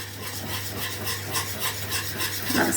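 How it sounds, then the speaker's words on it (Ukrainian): Cake batter being mixed with flour by hand for a chocolate nut cake, soft rhythmic scraping and rubbing strokes against a bowl, fairly quiet over a low steady hum. "вимішуємо з борошном до однорідності"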